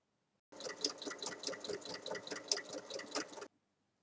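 A sewing machine topstitches a tote bag in a quick rhythmic burst of needle strokes lasting about three seconds, close and moderately quiet, then stops.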